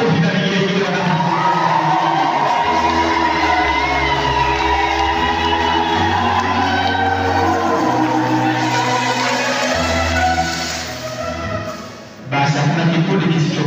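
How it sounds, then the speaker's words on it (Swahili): Applause mixed with shrill, warbling ululation from a crowd at a ceremony in Kigoma, loud and continuous, with voices mixed in, fading briefly before swelling again. "Makofi na vigelegele"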